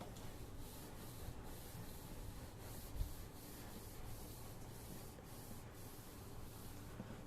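Chalk writing rubbed off a classroom board with a duster, a soft, faint, continuous scrubbing in rhythmic strokes, with no talking.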